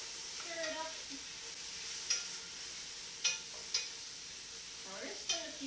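Sliced celery, bell pepper and onion sizzle softly in a pan for vegan yakisoba, a faint steady hiss broken by a few sharp scrapes and taps of a utensil stirring them.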